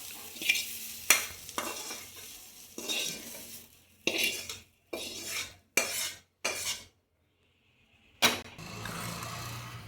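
A spoon scrapes and stirs spinach with tempered onions in a pan, repeated short strokes separated by pauses, with a light sizzle underneath.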